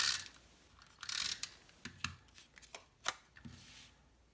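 A snail adhesive tape runner rolls glue onto a scalloped card layer with a series of soft ratcheting clicks and short rasps, uneven in spacing, quiet and close, with no talking.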